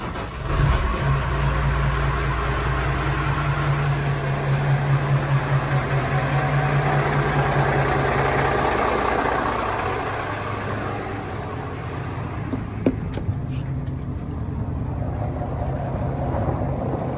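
The starboard engine of a 2006 Sea Ray 48 Sundancer boat turns over and idles with a loud, steady drone, then the sound drops to a quieter, softer hum with a couple of faint knocks near the end.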